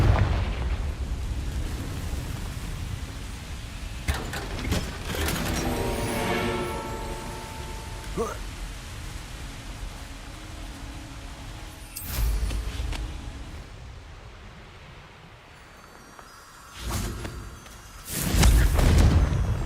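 The Confringo fire spell goes off in Hogwarts Legacy, several loud fiery blasts and rumbling bursts over a dense game soundscape, with a heavy boom near the end.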